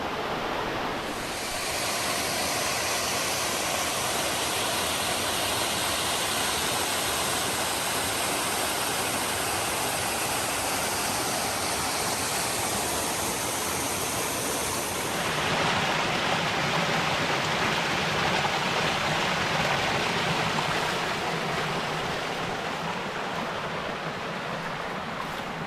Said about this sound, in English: Found another little waterfall here, unnamed to my knowledge